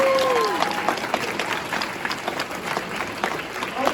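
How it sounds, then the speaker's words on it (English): Audience applause at a Red Dead Redemption reunion panel at the Game On Expo 2024, a steady dense clapping from a large crowd that holds loud for about four seconds, with a faint whistle early on. "Let's have a round of applause for the first part of the panel"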